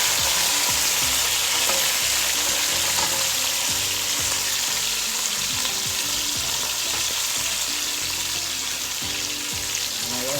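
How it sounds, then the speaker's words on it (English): Chopped sweet pepper, onion, scallion, okra, tomato, garlic and carrots sizzling in hot oil in a pot for brown stew fish, a steady loud fry with repeated scraping stirs. "I'm gonna put the seasoning in now."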